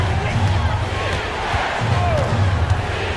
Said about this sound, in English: And the crowd now is in a frenzy.